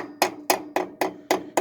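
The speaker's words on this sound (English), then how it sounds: "This is driving in, tapping. Yes, I'm using a larger hammer than probably what I should" A heavy hammer taps an axle bearing into place on a 1992 Dodge D150 pickup, six sharp metallic blows at a steady, even rhythm, close and clear with no talk.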